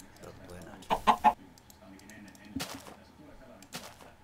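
Chickens clucking in the Minecraft video game, three close, loud bursts of clucks in quick succession followed by a couple of softer clucks later, over a quiet game background.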